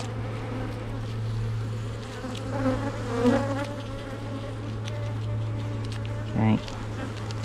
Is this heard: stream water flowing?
no